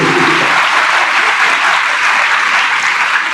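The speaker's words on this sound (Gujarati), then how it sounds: "અને એક તાળી તમારા માટે પાડી દો કે તમે 3 કલાકથી આવ્યા" Dense, steady audience applause fills the hall at a motivational speaker's event in Bodeli, many hands clapping loudly and continuously without a break.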